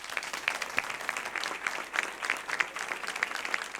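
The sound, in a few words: applause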